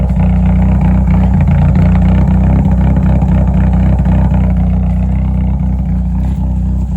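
A loud, deep car engine roars steadily close by, rumbling with low vibration throughout, no voices over it.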